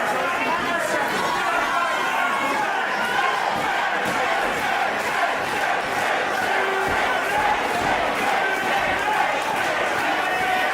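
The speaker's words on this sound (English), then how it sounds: "This crowd edging on Jayde. And some of the crowd are edging on Nina." A wrestling crowd at an independent women's wrestling show, cheering, chanting and chattering continuously around the ring, a dense, loud, unbroken roar with commentary voices mixed into it.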